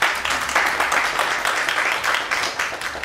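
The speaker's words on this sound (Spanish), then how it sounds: "Aplaudan a la maestra," An audience applauds a teacher, a dense burst of steady clapping from many hands that carries on evenly for a few seconds.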